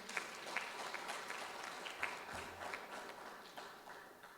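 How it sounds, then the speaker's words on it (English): Quiet, distant applause from a crowd, steady clapping throughout with no voices on top. "I think that deserves another round of applause."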